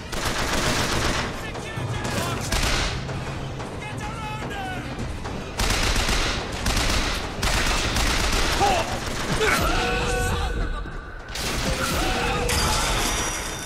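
Loud bursts of gunfire in BioShock Infinite come in repeated volleys with mechanical clanks and impacts between them, dense and close, with a voice talking faintly in places.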